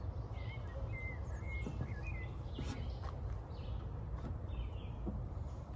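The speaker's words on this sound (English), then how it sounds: "That is the sound of the birds singing" Birds chirp and trill intermittently against a steady outdoor hiss, with several short calls scattered throughout, fairly distant and moderately quiet.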